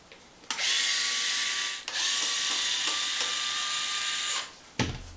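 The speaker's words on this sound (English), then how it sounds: "let's pull these little retainer screws out for the pins" A power driver whirs in two long, steady bursts while removing small retainer screws from the hinge pins of an XMAXX RC car, close and fairly loud in a quiet room.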